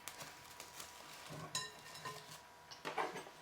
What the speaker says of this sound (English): Peel back the film and give another stir.